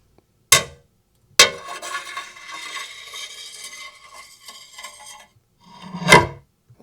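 Spoons percussion sample from a sound library: sharp metallic clacks at the start, a dense rattling and scraping run of several seconds, then another loud clack near the end, close and dry.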